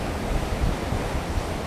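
Ocean waves wash steadily along the shore, a dense, continuous rushing hiss with low rumbling swells, mixed with some wind buffeting the microphone.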